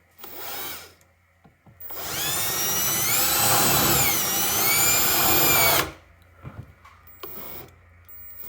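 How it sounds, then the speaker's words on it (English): A power drill with a step bit whines at high pitch for about four seconds, its tone bending as it bites through metal to cut a half-inch vent hole, with faint clicks and handling before and after. "you get a step drill, and you drill it to the point"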